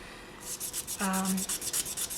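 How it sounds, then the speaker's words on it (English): Rhythmic rubbing strokes of sandpaper scrape back and forth along earring edges, close and steady, with a brief squeaky tone midway. "just sand around all of the edges"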